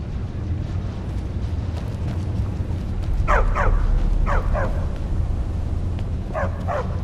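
Several dogs bark in short paired bursts, a few times over a steady low rumbling background, fairly close and loud, in the video game The Elder Scrolls Online, in the city of Markarth.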